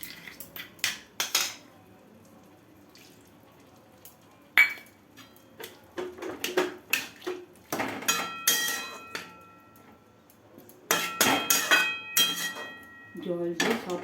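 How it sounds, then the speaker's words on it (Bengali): A utensil mixes pumpkin with poppy seed paste and water in a pan with scattered clinks and scrapes against the pan, and a voice talks in between. "জল দিয়ে সব কুমড়োটাকে পোস্তর সাথে ভালোভাবে মিশিয়ে গ্যাসটিকে মিডিয়ামে রেখেছি"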